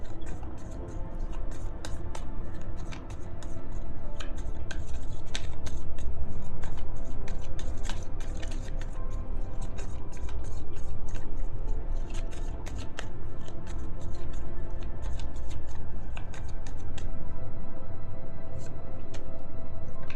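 Tarot cards shuffled steadily by hand for a long stretch, a dense continuous riffling and slapping of card stock, close and fairly loud, with no talking.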